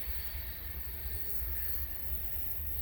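A manifest freight train led by two SD40-3 locomotives rumbles past with a steady, deep, continuous roar and rail noise, loud and close with no talking.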